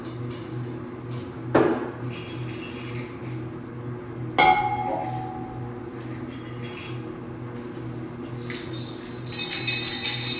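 Decorative bells hung on a chandelier, tinkling and clinking in two short bright bursts, then a longer jingling cluster near the end, over faint room noise.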